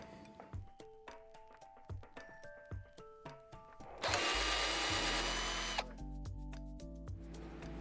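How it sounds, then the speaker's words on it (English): Power drill undoing Allen bolts on an aluminium pergola beam, several short whirring bursts with clicks, then a loud sustained high-pitched grinding spin for about two seconds before settling into a lower hum. "we're going to have to undo the four Allen bolts, two on the side here and two on the top"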